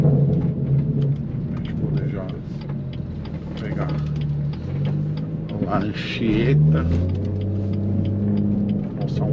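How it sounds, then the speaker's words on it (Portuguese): A car engine roars steadily throughout, a loud rumbling drone with a brief swell near the middle as it revs, while someone talks over it the whole time. "o ronco do carro é bonito"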